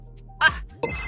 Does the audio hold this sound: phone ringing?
yes